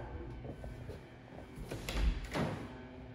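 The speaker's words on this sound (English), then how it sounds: "there's a pocket door that closes this off if you want to shut it off." A pocket door in a Midtown condo slides along its track to close, a soft rolling rumble building to a dull thud near the end, heard fairly close in a quiet room.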